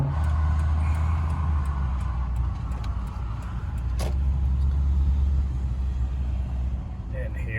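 A 2000 Porsche 996-generation 911 race car rumbles steadily at close range with a strong low engine drone, and a brief sharp sound cuts through near the four-second mark.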